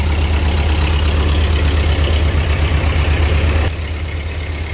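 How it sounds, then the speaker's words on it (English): A restored Ford 8N tractor engine runs on its foot throttle, a loud, steady, close chugging that eases slightly lower near the end. "Foot throttle sounds really good."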